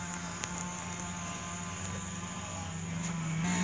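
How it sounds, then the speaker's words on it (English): A lawnmower runs steadily in the background, a continuous moderate engine drone with a low hum that holds for the whole stretch and grows slightly louder at the end. No one speaks over it. "sorry for the lawnmower in the background"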